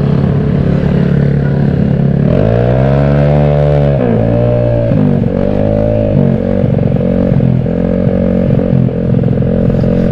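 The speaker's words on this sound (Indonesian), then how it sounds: "Dan motor ini udah bisa power wheelie" A motorcycle engine, freshly tuned and able to power wheelie, revs loudly and close up, rising and falling in several sustained pulls over a steady idle.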